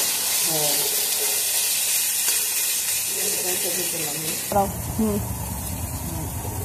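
Onions hiss and sizzle in hot oil for a Bengali muri ghonto, a steady close frying noise with a sudden louder burst midway, while people talk over it.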